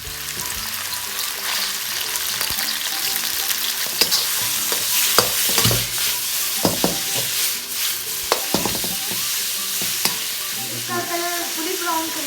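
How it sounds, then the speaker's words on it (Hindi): Chicken frying with garlic in a pan for chow mein, a continuous sizzle broken by scraping stirs and utensil clatter, close and alone without any talking. "इसको चिकन को थोड़ा सा फ्राई करेंगे, उसके बाद इसको लहसुन डाल के इसको ज़्यादा कर लेंगे।"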